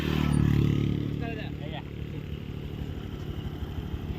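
A motorcycle engine rumbles steadily at close range, loudest at the start and then easing to a constant low drone, with voices talking over it.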